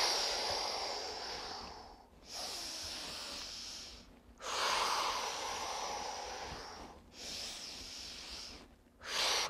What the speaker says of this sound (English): Breathe deep, exhale slow.